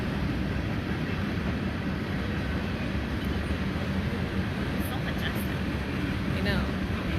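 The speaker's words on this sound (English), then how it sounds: "We're waiting for the train to pass." A low, steady rumble of a passing train fills the whole stretch, broad and continuous, with wind buffeting the microphone and faint voices underneath.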